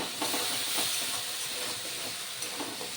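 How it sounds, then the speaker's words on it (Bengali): Spice masala for fish curry fries in a pan with a steady, dense hiss and sizzle throughout, close and fairly loud with no talking. "এবার মশলা খুব ভালো করে কষিয়ে নেব।"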